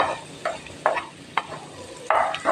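Liver fry being stirred in a pan, four distinct scraping strokes of a spatula over a low steady sizzle, close and moderately loud.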